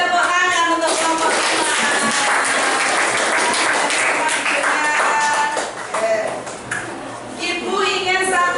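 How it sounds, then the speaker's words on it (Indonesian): A classroom of students applauds a group's presentation, loud sustained clapping from many hands that thins out and tapers near the end, with a few voices mixed in. "Beri tepuk tangan untuk kelompok"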